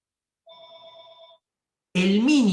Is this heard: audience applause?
no